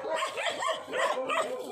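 Several dogs bark and yip repeatedly at a group of people on an outdoor walk, a dense, continuous chorus at moderate distance with no clear pauses.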